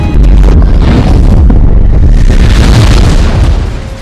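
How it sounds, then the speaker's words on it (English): A massive explosion in a film roars loud and sustained, a thick rumbling blast with crackling debris that holds for several seconds before starting to fade. "then realizes the explosion still happens"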